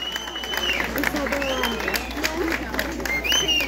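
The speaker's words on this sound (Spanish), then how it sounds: "¡Fuerte el aplauso para nuestro alcalde!" Crowd applause and cheering for the mayor at a patronal festival queen coronation in Urbanización El Balsamar, steady clapping with voices and shouts mixed in throughout.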